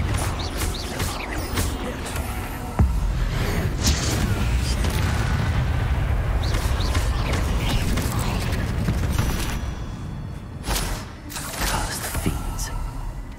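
Repeated Confringo explosive spell blasts in Hogwarts Legacy, booming and crackling loudly with mechanical creaks over continuous game noise.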